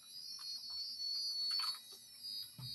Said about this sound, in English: I'm going to count out 10 beeps.